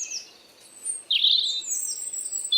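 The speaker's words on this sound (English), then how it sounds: "I'm sure the camera's picking up the bird sound" Birds chirp and sing outdoors with high, bright tweets and trills, one louder burst in the middle, over a quiet background.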